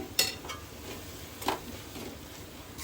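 Masala with tomato paste, salt and chilli powder frying in a pan for drumstick gojju: quiet sizzle with a couple of sharp spoon scrapes against the pan, no speech.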